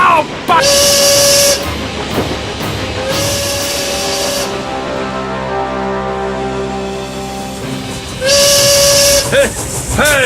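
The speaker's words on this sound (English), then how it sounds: "Never mind the whistle" A steam train whistle shrieks loudly in two long blasts, with a shorter blast between them, over hissing steam and rumbling rail noise, with voices underneath.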